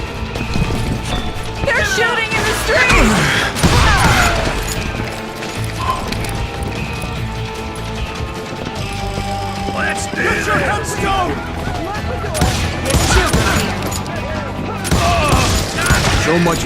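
Frantic street shootout in the Wild West game Call of Juarez Gunslinger, bursts of gunshots and impacts with clattering hooves and mechanical clicks, someone narrating over the loud action.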